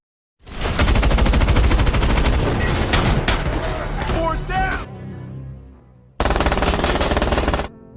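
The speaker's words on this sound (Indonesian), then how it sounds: "Setelah berhasil melumpuhkan Hill, Bullet juga menembak David" Loud rapid automatic gunfire from the action film Wrath of Man rattles in a long burst, then fades, and a second short burst follows.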